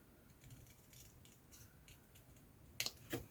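Scissors cutting an old Christmas card into a circle: a quiet room, then two or three quick crisp snips close by near the end.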